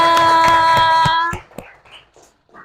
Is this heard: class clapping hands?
yes